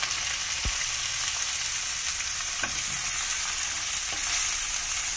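Cauliflower stalks, peas and tomato fry in a pan with a steady, dense sizzle throughout, broken by a few soft clicks of stirring and no voices.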